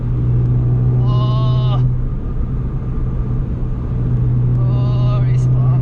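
Honda Fit engine with an MFactory 4.928 final drive pulling hard under acceleration, a loud droning rumble steady inside the cabin, with tones rising in two bursts and an excited exclamation from the driver.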